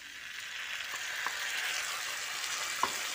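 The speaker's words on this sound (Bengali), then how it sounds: "এবার এর মধ্যে আদা, কাঁচা লঙ্কা ও কালো জিরের পেস্টটা দিয়ে দিচ্ছি।" A paste of ginger, green chili and black cumin fries with potato and papaya in a pan, a steady close sizzle with occasional small clicks of stirring and no voices.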